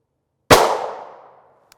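A single sharp gunshot fired at a Level IIIA double-shield ballistic backpack in a test, one loud close crack with a short ringing decay and no talk.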